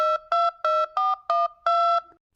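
Telephone being dialed to place a call, seven crisp two-tone keypad beeps in quick rhythmic succession, clear and close with nothing else heard.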